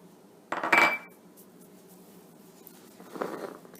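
A utensil scrapes and clinks in a bowl of flour with crushed saffron, cardamom powder, baking powder and salt, one busy burst of mixing followed by a quieter second stir.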